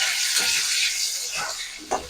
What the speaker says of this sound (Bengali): আলুটাকে আমি লাল করে ভেজে নেবো।